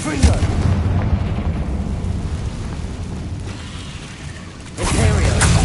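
The Confringo blasting spell in Hogwarts Legacy sets off booming explosions, with a heavy blast at the start, rumbling debris afterward and a second loud burst near the end.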